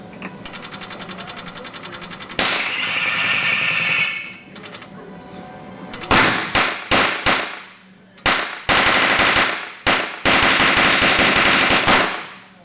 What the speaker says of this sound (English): turn on your oxygen and your propane as described in the manual until you can get the gun to fire